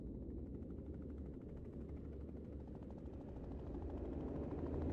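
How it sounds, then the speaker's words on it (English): Helicopter in the video game Dolls Nest, a steady low rotor thrum with rapid chopping pulses, continuous and fairly close, holding even throughout with no talk. "Okay, just a helicopter."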